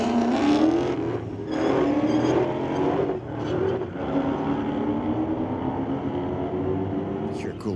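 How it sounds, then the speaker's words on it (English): A Mustang drag racing down a street-legal drag strip in a grudge match against a 2016 Hellcat, its loud engine roaring continuously and shifting through the gears, with crowd and announcer-style voices underneath. "Cool to hear him going through the gears"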